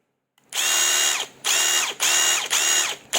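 Ridgid cordless impact driver or hammer drill from the R9205 combo revving in four loud, close bursts after a brief silence, each a harsh, rough high-pitched whine with a gritty mechanical edge, no voices.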